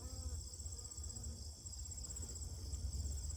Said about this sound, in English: Some honeybees.